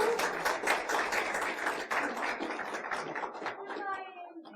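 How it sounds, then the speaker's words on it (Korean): An audience at a lecture by a seminary professor breaks into a short burst of clapping that fades out after a few seconds, with some murmuring voices mixed in. "다시 한번 인터뷰에 박수 한번 보내드리겠습니다."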